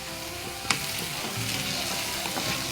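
Onions and mustard seeds fry in oil with a continuous, fairly loud sizzle and crackle, broken early by one sharp clack as the pan is stirred.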